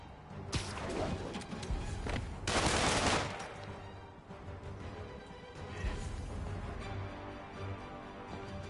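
Gunfire bursts in the Spider-Man video game, a dense fusillade of overlapping shots with a loud peak near the middle, layered over game sound effects and whooshes throughout.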